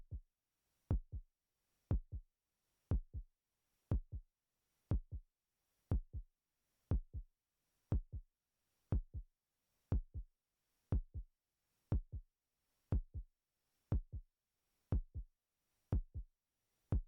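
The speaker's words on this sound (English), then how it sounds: "the prologue is the one with the heartbeat thing" A steady electronic heartbeat pulses through the prologue tutorial of a rhythm video game, Noisz Starlight, each thump landing about once per second for the whole stretch, low and clear with nothing else over it.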